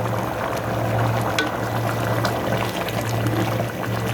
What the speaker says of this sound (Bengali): সেটা থেকে আমি 1/4 কাপ সস এখানে দিয়ে দিব